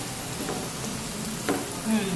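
Capsicum and other vegetables hit hot oil in a frying pan for vegetable pasta, making a dense, continuous close sizzle with a couple of brief stirring knocks.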